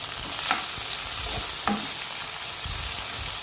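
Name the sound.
frying and stirring chopped tomato and green chili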